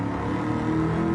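A race car engine in GT7 on the Nurburgring sprint track holds a steady, loud, buzzing drone as the throttle is feathered, with no voice over it.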